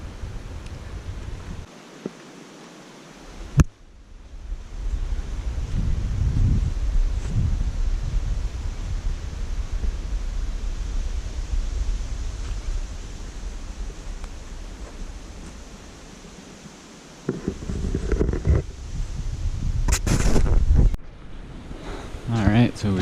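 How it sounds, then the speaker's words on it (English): Steady low wind rumble buffets the microphone outdoors over a big open lake, with gusts swelling and a brief lull, loud and continuous throughout. "Still fairly windy."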